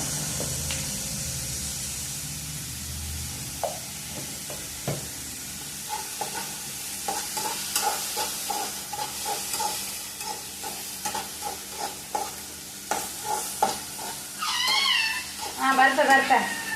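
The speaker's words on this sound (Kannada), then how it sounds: "ಸ್ವಲ್ಪ ಹಳದಿ ಪೌಡ್ರ್ ಹಾಕಿ ಫ್ರೈ ಮಾಡುವ." Tomato frying in a pan with turmeric powder, giving a continuous soft sizzle with scattered stirring clinks, and a brief cat-like squeal near the end.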